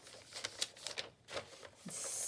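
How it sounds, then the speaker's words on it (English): Paper page edges being cut for a grungy handmade journal, a series of close, crisp snips and rustles in an uneven rhythm, ending in a steady soft papery hiss. "So let's just first cut off edges."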